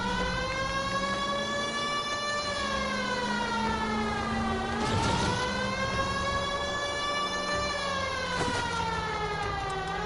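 A video game police car siren wails in long, slow rising and falling sweeps, prominent and continuous, broken by a couple of brief thumps.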